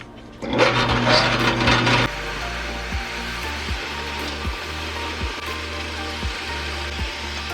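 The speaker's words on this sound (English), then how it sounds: "I drill the holes, so I'm gonna drill the other holes." A drill bores holes in metal guided by a template on E46 rear-end tubing work, a loud whirring burst up front followed by steady lower grinding with a repeating rhythmic thud, close by.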